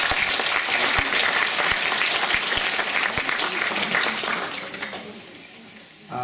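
Audience applause for female singers at a village festival event, a dense round of clapping that holds steady, then thins and fades toward the end.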